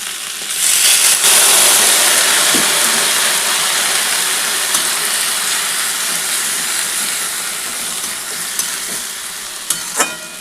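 Water hits a hot pan of potatoes and Malabar spinach greens, setting off a loud, steady sizzling hiss that rises sharply at the start and then eases slowly into a softer bubbling fry, with a few light clinks of a utensil.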